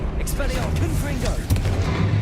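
Repeated booming blasts from a Confringo spell in the Hogwarts Legacy video game, loud and dense with a sharp burst near the middle, layered over continuous game battle noise and character voices.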